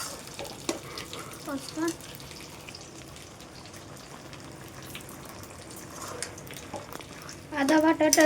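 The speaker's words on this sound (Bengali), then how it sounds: "আদা বাটাটা দিয়ে এটা একটু ঘেটে দিতে হবে" Ginger paste stirred into fish head curry in a pan, soft scraping and sizzling under steady kitchen background noise, with louder clattering near the end; someone talks intermittently.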